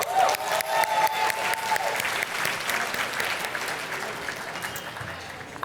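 Applause from a seated audience at a Match Day ceremony for a graduating medical class: loud, sustained clapping from a large crowd that starts strong and gradually thins toward the end, with faint voices mixed in.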